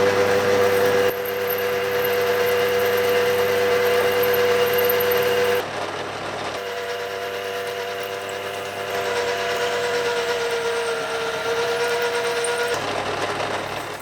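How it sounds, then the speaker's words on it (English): A milling machine drills a hole through aluminium, giving a steady mechanical whine with a sustained tonal hum. The level shifts slightly partway through as the cut changes, and no one speaks. "I'll now start to drill a hole all the way through the aluminium."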